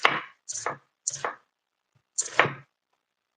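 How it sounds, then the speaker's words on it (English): A kitchen knife chops onions on a cutting board while rainbow trout is being prepared, giving four crisp, close cuts in an uneven rhythm with short quiet gaps between them. "let's just start chopping and hope."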